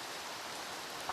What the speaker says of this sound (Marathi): पाऊस पण पडतो बघा किती रिमझिम